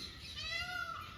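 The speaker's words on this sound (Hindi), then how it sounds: "जैसे कई बार ये मोर बोल रही है" A peacock gives a brief, faint rising call that stands alone over quiet background noise.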